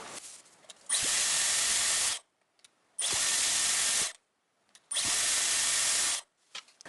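Hair dryer blowing hot air in three separate bursts, each about a second long with short silences between, steady and fairly loud, used while styling side bangs with a curling attachment close to the forehead.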